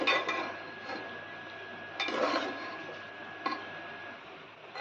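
Cooked sweet rice being gently mixed in a pressure cooker, with soft scraping and stirring and a few sharp metallic clinks of the spoon against the pot, close by under a steady faint hum, with no talk.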